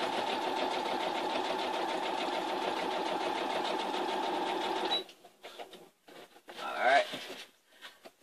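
Sewing machine stitching fabric for a handmade flower pot, a steady close whirring chatter for several seconds that stops abruptly, followed by brief handling rustles and a short squeak.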